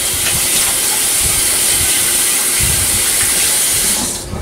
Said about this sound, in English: time to wash my hands again